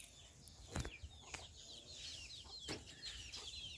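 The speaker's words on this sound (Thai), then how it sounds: "ไก่เข้ามาไก่เข้ามาเป็นเอาเลยโอ้ยไก่เข้ามาเรื่อย" Chickens cluck near a morning peanut harvest on a farm, a few sharp calls and a brief flutter of wings over fainter background birdsong.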